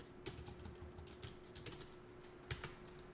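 Someone types in MS Excel on a computer keyboard with a steady run of close, crisp keystrokes and a few sharper taps, over a faint background hum.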